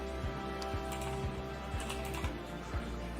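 Steady typing on a computer keyboard, a run of light, quick key clicks at an uneven rhythm, close and fairly quiet over a constant low hum, with no talking.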